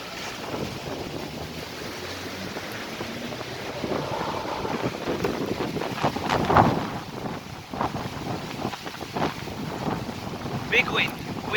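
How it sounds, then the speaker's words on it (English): Strong cold winter wind buffeting outdoors, a continuous roaring rumble with gusts swelling and easing, loud and close against the microphone. "there's big wind, big wind"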